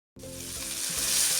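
About a teaspoon of mustard seeds hitting hot oil and being stirred, a sudden sizzle that bursts in after a brief silence and swells steadily louder.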